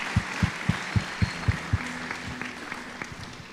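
Church congregation applauding at an evangelical church's 15th anniversary talk show, starting with a few regular loud claps and then spreading into a softer, scattered clapping from the crowd.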